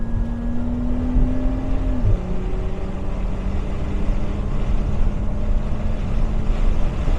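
Nissan R33 Skyline GTS25t accelerating uphill on the road, a steady engine drone climbing in pitch, easing briefly as if through a gear change, then pulling on under constant road noise, with no talking.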